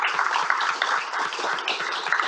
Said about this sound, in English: they deserve a big round of applause for that.